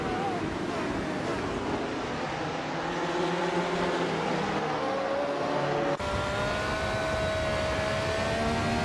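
Tyrrell 007 race car engine driving in a race, a steady high harmonic drone whose pitch climbs and shifts as the car accelerates, continuous and fairly loud throughout.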